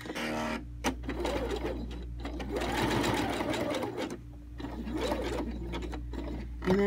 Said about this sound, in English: I'm going to actually start sewing on the existing bowl back about